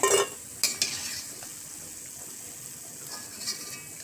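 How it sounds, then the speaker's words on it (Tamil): Bread pieces deep-fry in hot oil with a soft, steady sizzle, and a few sharp clinks of a utensil stirring in the pan come through near the start. "இந்த மாதிரி நல்லா கிறிஸ்பியாக பொரிச்சு எடுத்துடணுங்க"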